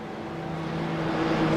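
GTP race cars power past on the racetrack during the Roar Before the 24, a steady engine roar that swells louder toward the end of the short pass.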